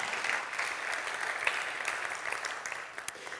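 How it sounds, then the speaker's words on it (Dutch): An audience at a public lecture on child poverty in Friesland claps steadily for a few seconds, a dense, moderately quiet patter of many hands. "Maar in ieder geval een groot applaus"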